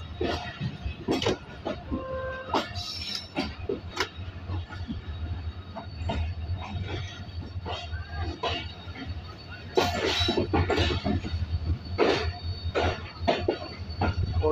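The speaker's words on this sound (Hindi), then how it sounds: "इस वक्त कोटरी रेलवे जंक्शन से डिपार्चर कर रही है 47 अप" Rehman Baba Express 47 Up pulling out of Kotri railway junction, wheels clicking and squealing steadily over the rails with a low rumble and occasional metallic clinks, growing louder toward the end.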